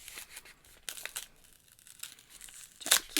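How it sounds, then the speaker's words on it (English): A paper envelope holding a card is torn open and crinkled, with short bursts of ripping and rustling, a quiet pause, then a loud final tear close by. "So I'm going to open up my card."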